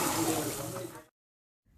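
Water being poured into a pan of sautéed onion, tomato, garlic, ginger and cashew masala paste, a brief loud gushing splash lasting about a second, then silence.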